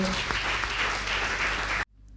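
Applause for a contestant at a women's eloquence competition in a hall, a loud, dense wash of clapping from a sizable audience that cuts off abruptly.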